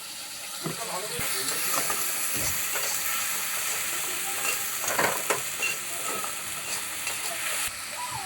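Onions and ginger-garlic paste frying in a pan over high heat for a chhola tarka, giving a steady close sizzle and hiss with occasional stirring scrapes, no talk.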